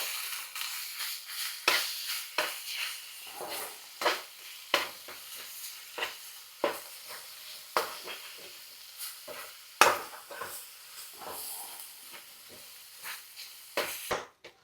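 Chicken cutlet filling of cooked beetroot, potato and onion being stirred in a pan, with repeated scraping strokes over a faint sizzle, steady and close.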